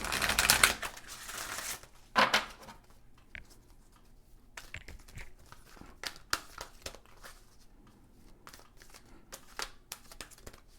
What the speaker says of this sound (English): Let me shuffle your Oracle card from the Angels, Gods, and Goddesses deck for the earth signs.